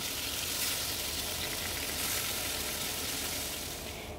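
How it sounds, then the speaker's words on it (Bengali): Pointed gourd pieces fry in hot mustard oil in a wok, giving a steady, dense sizzle that holds evenly throughout and eases slightly at the end, with no talking. "কড়াইতে সর্ষের তেল গরম করে পটলগুলো দিয়ে দিচ্ছি।"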